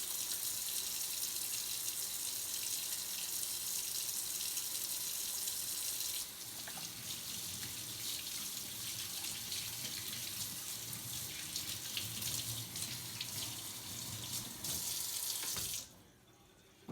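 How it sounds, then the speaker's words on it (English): Steady running tap water pours into a sink for hands washed with soap, a constant loud splashing hiss that softens partway through and cuts off near the end. "it is important after you touch eggs that you wash your hands real good with soap and water"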